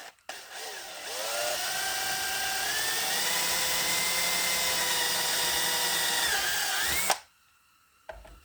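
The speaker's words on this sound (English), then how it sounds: "Got a 3/16 drill." A 3/16 drill bit bores through a brake lining, a steady high whine lasting several seconds before cutting off abruptly, followed by a brief click.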